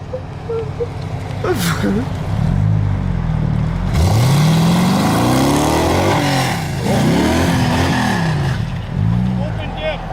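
A sleeper Chevrolet Cavalier project car accelerates hard with its rear lifting off the ground, the engine note climbing and sweeping through rising revs loudly up close, with people talking and cheering over it.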